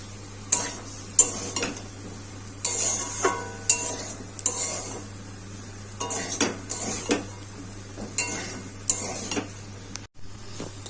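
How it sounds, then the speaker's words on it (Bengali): Pointed gourd and potato pieces with fish roe and spices being stirred in a pan, a series of irregular scraping and clanking spatula strokes against the metal over a steady low hum. "পটল আলুটা দিয়ে দেবো, দিয়ে নেড়ে নেবো"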